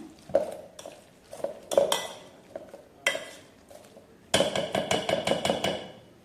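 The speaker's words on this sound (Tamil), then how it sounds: "இந்த வேக வச்ச கிழங்க நல்லா நசுக்கி எடுத்துக்கலாம்" Boiled tubers being mashed in a metal pot for a kizhangu kootu: uneven bursts of clanks and dull thuds, then a fast run of repeated knocks near the end, close and clear with no voices.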